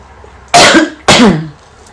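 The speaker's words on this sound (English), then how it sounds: "I gotta clear my throat, sorry." Two forceful, close throat-clearing coughs about half a second apart, each a harsh rasping burst fading quickly, with no talking.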